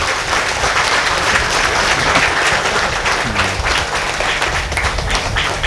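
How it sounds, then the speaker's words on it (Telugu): A church congregation applauds loudly and steadily at the consecration of the new Saint Anthony church in Lingarajupalem, a dense wash of many hands clapping close by without a break. "గట్టిగా చప్పట్లు కొట్టి రోమ్ వినపడాలి అక్కడ."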